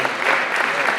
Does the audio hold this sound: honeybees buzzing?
no